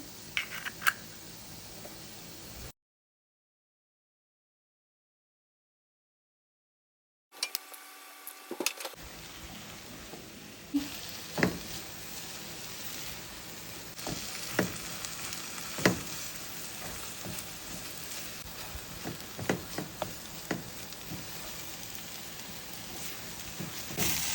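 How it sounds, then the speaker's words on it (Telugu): Eggs cracked into a hot pan and frying for carrot egg bhurji, a steady crackling sizzle broken by a short silent gap, then resuming with scattered pops and a few louder taps near the pan. "ఎగ్స్ క్రాక్ చేసి వేసుకుంటున్నాను."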